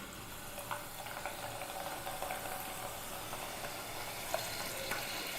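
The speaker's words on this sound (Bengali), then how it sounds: "বাকি পাতাগুলোকে এইভাবে বেসনের সঙ্গে কোট করে ধীরে ধীরে ভেজে নেব।" Spinach leaves coated in gram flour frying slowly in oil for pakoras, a steady soft sizzle with faint crackles running continuously, close by and fairly quiet, with no talking.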